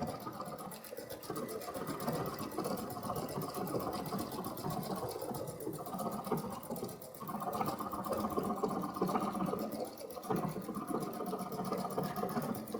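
A computerized embroidery machine stitching out a design hums and chatters steadily, a dense continuous mechanical rattle with slight shifts in pace, close up and alone without speech.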